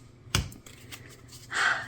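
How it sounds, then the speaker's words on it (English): Tarot cards being shuffled by hand, a sharp snap of the deck followed by soft riffling and a brief louder flurry of card noise near the end, close and fairly quiet. "as I finish shuffling up your cards"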